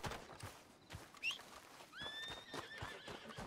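A horse in the video game Red Dead Redemption 2 gives a clear, high whinny that trails off, with hoof clip-clops and other game sounds around it.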